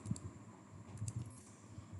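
A computer keyboard is typed on as a command is entered, giving faint, quick, irregular key clicks close up with no talk.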